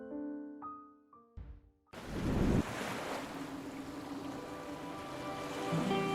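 Surf washing onto the beach at San Diego Bay, a steady broadband rush of breaking waves with wind across the microphone, following a few brief tonal sounds at the start.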